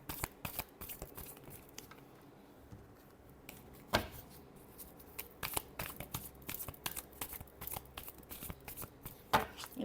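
Tarot cards are shuffled by hand nearby in repeated soft riffling bursts and light slaps, quiet and intermittent.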